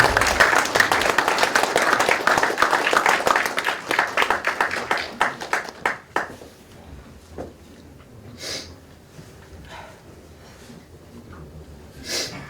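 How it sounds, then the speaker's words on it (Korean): Dense applause from an audience at a township chief's retirement ceremony, loud and sustained for several seconds before thinning into scattered claps and fading to near silence. "큰 박수 부탁드립니다."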